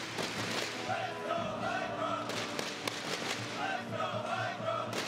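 A large esports crowd at the StarCraft 2 WCS Season 2 Finals 2015 in Tours roars and cheers continuously, a dense loud wash of voices with chanting swells rising and falling throughout.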